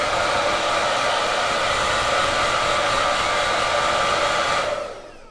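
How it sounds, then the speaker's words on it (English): Blow dryer drying the parts of a shaving razor, brush and bowl, a loud continuous whooshing hum held steady for several seconds before being switched off and winding down. "take your blow dryer and give all the parts a thorough drying"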